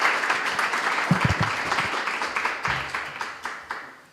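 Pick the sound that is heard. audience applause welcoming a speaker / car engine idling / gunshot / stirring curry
audience applause welcoming a speaker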